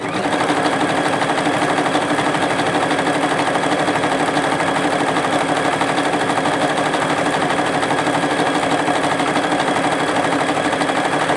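Juki HZL-F300 sewing machine running continuously while stitching faux piping, a steady, even, rapid mechanical whirring with no pauses.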